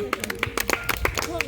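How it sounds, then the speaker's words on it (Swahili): Audience at a student members' debate clapping in quick, uneven bursts of close hand claps, mixed with voices talking over the applause. "So tunaweza kaa chini tunapigia makofi."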